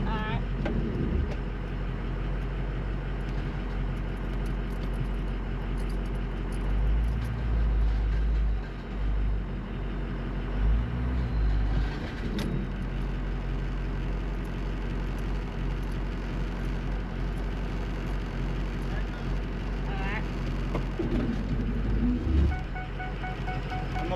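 A broken-down truck in four-low creeps forward in drive, its engine a steady low rumble that swells slightly as it eases ahead, with people talking nearby.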